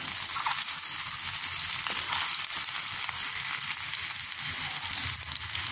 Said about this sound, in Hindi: घी डालेंगे, घी में फ्राई करेंगे कबाब को, दरमियाने आंच पर फ्राई करेंगे